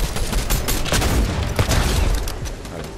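Rapid bursts of gunfire from a Fortnite match, loud and dense, firing in quick volleys for several seconds with brief gaps, no voices over it.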